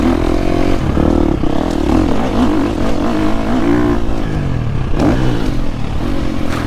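A motorcycle rides and accelerates, its engine droning loud and steady close up, with the pitch rising and falling through revs and a rushing wind and clatter underneath.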